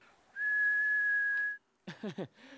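A steady, clear single-pitch whistle held for just over a second, then a few brief spoken syllables nearby.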